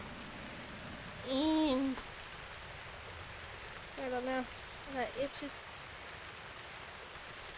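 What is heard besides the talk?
rain in the video game Zelda: Breath of the Wild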